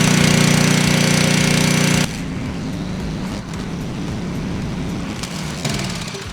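Pressure washer skid engine running steadily and loudly; a heavier pump-loaded roar for the first two seconds drops to a lower, continuous engine drone that carries on alone.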